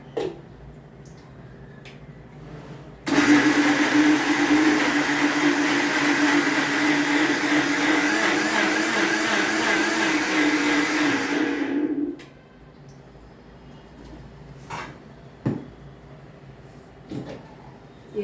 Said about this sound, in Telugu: టమాటాన్ని మిక్సీ పట్టుకోవాలి